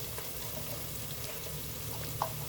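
Ginger garlic paste frying in a pan for mutton chops curry hisses in a continuous dense sizzle, with a faint clink near the end.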